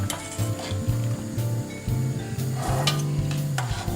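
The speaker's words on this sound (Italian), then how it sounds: "Ora metto gli gnocchi nella pentola con il condimento" Potato gnocchi from Rotzo being stirred in a pot with sauce, a steady close sizzle with repeated scraping stirs and low rhythmic rumbling, no voices.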